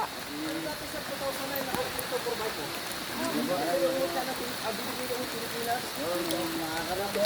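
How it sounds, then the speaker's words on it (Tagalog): Steady hiss of heavy rain falling on surfaces, constant and dense, with faint voices murmuring underneath. "Ayan na po ang ulan. Ang malakas na ulan."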